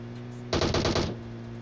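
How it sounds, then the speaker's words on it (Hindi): Rapid automatic gunfire in PUBG Mobile, a burst of about half a second of dense repeated shots rising abruptly over steady game background hum, then stopping. "ये न जाने कहां से इतने दूर से बैठ के गाड़ी पे गोलियां पेल रहे हैं"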